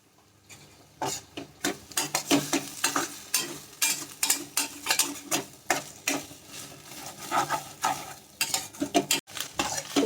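Kothu parotta with egg, for a mutton kothu parotta, being sautéed and chopped in a pan, giving a busy run of sharp metallic clanks and scrapes over a steady sizzle, close and fairly loud, with no talking.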